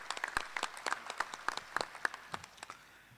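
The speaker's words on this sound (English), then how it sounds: "he and his staff and the ministry staff deserves a big round of applause" Scattered hand claps from an audience at a formal dinner gathering, sparse and fairly faint, tapering off after about three seconds.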